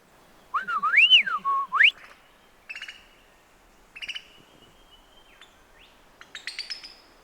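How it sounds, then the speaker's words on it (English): On a camping island, a bird whistles clear rising and falling phrases, followed by several shorter chirping calls spaced out over the next few seconds, moderately near against quiet surroundings. "I swear there's another bird doing it, not that one."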